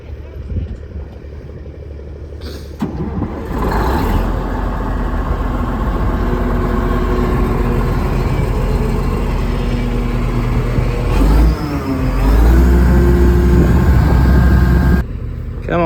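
A Kenworth W900 truck's big diesel engine cranks and fires up, then settles into a loud, close, rumbling idle with rising revs toward the end, with a voice talking over it.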